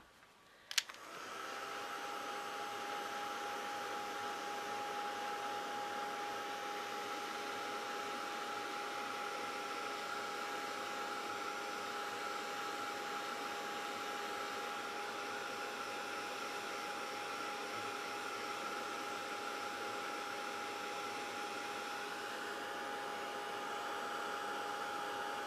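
A hot-air heat tool runs steadily on a vintage plaque, giving a continuous whirring blow with a thin tonal whine, clicked on with a sharp knock at the start and heard alone throughout.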